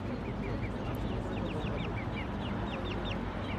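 Repeated short quacks from a duck in a VR bird video game, a quick irregular series of calls set over a loud, steady background wash.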